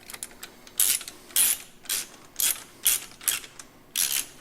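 A ratchet with a 17mm socket snugs a bolt on a National Cycle P4202 motorcycle side guard, giving about seven quick bursts of close, crisp clicking separated by short pauses.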